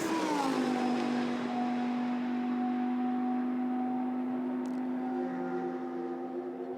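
A Vincenzo Sospiri Racing Lamborghini GT car runs through a chicane at Spa-Francorchamps during qualifying, its engine note dropping then holding a steady loud drone as it passes close by.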